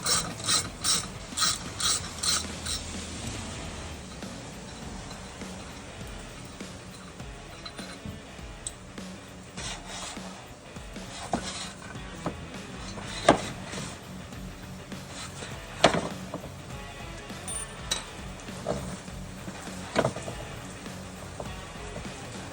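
A Segway Villain drive belt being turned by hand during a belt change, with a steady mechanical ratcheting and rubbing texture and sporadic sharper clicks and clunks, fairly close and with no talk.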